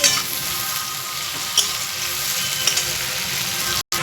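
Onion is added to a pan where carrots are already frying, producing a steady, close sizzle with occasional crackles. There is a brief dropout near the end, and no voices.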